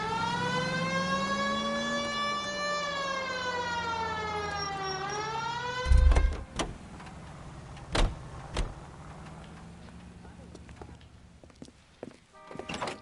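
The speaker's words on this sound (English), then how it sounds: "Hit the siren." A police car siren wails with rising and falling sweeps in the L.A. Noire video game, then cuts off and is followed by a car door thudding, footsteps and other scattered knocks.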